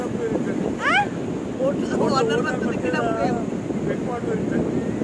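Boat ride on open water, with steady wind buffeting the microphone and a constant low rush of water throughout, while people talk over it.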